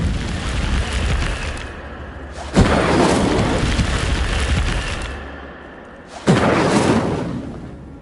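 Incendio fire spells cast in Hogwarts Legacy bring two loud whooshing fiery bursts, each opening with a sharp onset and roaring for a couple of seconds before fading.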